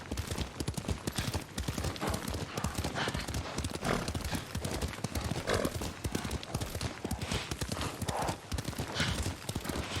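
Horse hooves in a video game, a quick, steady clip-clop rhythm of riding that runs continuously, with a horse's snort or whinny mixed in.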